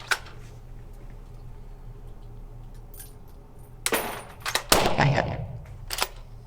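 Hunting rifle shots at a driven game hunt in Sweden: a few sharp reports spaced a second or so apart, one followed by a brief rolling echo, outdoors and moderately distant, with no talking.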